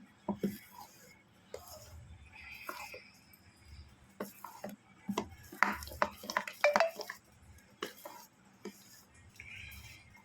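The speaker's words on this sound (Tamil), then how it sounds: "பேக்கிங் சோடா ஆட் பண்ணதால இப்போ இதை நல்லா மிக்ஸ் பண்ணிக்கலாம்" Soft scraping and clinking of a spoon mixing thick dhokla batter with baking soda in a bowl, irregular strokes with faint background noise.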